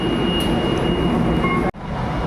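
LRT light rail train at Trinoma station, a steady loud rumble of rolling wheels and motor hum with a faint high whine, briefly dropping out near the end before resuming.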